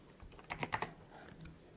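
A command is typed on a computer keyboard, a short cluster of quick, faint key taps followed by a couple of scattered presses.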